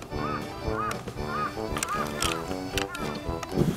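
Repeated cartoonish duck quacks and honks from a video game in a bouncy rhythm, layered over game music, loud and close.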